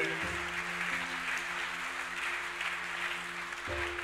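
Church congregation applauding during a youth seminar gathering, a steady wash of clapping from many hands that runs evenly throughout, with a sustained tonal hum underneath and no speech.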